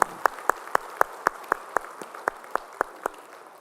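Applause from a church congregation during a Sunday worship service, heard as a steady rhythm of about fourteen even, sharp claps roughly a quarter-second apart, fairly close and clear with no talking.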